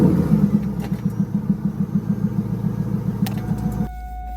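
A 1999 Pontiac Firebird Trans Am WS6 convertible with a six-speed manual fires up and settles into a steady, lumpy low idle, the rhythmic engine pulse close and even before it is cut off abruptly.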